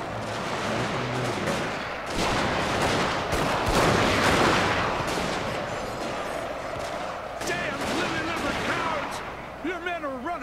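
Troops fire volleys in a Total War: Fall of the Samurai multiplayer battle, dense rolling musket and artillery crackle with heavy thumps, loud and continuous, with a voice talking over parts of it.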